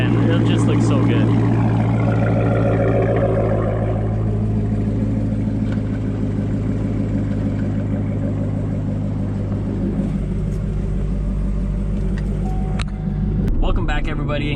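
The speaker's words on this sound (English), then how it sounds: "She sounds and looks mean. You gotta up that exhaust." A Z06 Corvette's engine and exhaust rumble steadily at a low idle for several seconds, loud and close, with a brief rise near the end.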